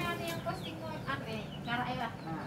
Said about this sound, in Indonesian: Ayam kalkun namanya ya.